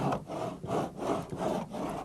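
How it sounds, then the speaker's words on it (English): A cheese grater scrapes across partly cured Bondo body filler on a car panel in about five rhythmic rasping strokes, each a gritty rub separated by brief gaps, close and fairly quiet. "I'm going to go back in now and just cheese grade the area"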